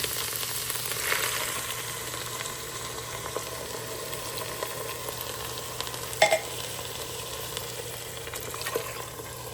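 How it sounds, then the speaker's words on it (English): Coconut milk pours into a hot pan of sizzling yellow and red peppers for a Thai red curry, a steady frying hiss with faint liquid stirring and a brief clatter midway, no talking. "let's add in our 2 cups of the coconut milk"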